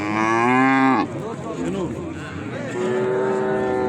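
Young calves at a livestock cattle market in Uchkoʻprik give loud, close moos, one drawn-out call cut off after a second, then more lowing and a second sustained moo amid market bustle.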